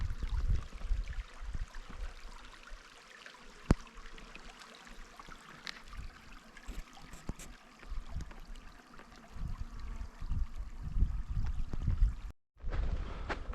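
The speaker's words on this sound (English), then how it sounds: "Nice little stream going through here." A small mountain stream between Mt Laguna and Cuyamaca Rancho, San Diego, flows and burbles steadily nearby, with soft splashes and a brief dropout near the end.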